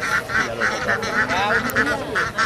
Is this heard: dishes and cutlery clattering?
no